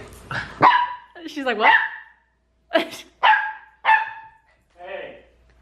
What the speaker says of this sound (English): Don't bark, please.